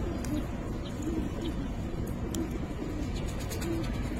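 Giribaz pigeons coo repeatedly in a low, soft rhythm close by, over a constant background hum with faint chirps above.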